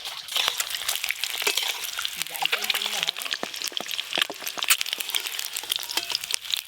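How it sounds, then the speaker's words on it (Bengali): Eggs frying in oil in a home kitchen, a steady crackling sizzle with dense spitting pops running throughout, fairly close and even, with faint background sounds underneath. "ডিমগুলো ভালো করে ভাজা হয়ে গেল"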